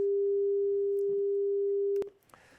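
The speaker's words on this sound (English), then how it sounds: "And so we'll get one sine wave to the left and one to the right." A steady synthesized sine wave tone generated in SuperCollider, split into stereo with one sine on the left and one on the right, holds a single pure pitch for about two seconds, then cuts off abruptly.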